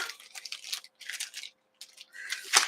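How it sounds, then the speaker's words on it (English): Plastic packaging crinkles in short bursts at close range, quiet bits of rustle broken by brief pauses, ending in one sharper crackle. "sorry for the crinkling"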